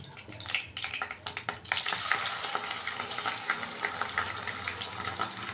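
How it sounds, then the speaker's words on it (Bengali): Spice paste for potol posto fries in hot oil, a steady broad sizzle that starts with a few sharp clattering stirs and then hisses on continuously, close and fairly loud, with no voices. "এই তেলের মধ্যে এখন আমি মশলাটা কষাবো"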